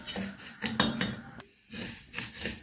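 Orzo being stirred in melted ghee in a pot on the stove: a spoon scrapes and clinks against the metal in a few irregular bursts, with a short quiet gap midway, close and fairly soft.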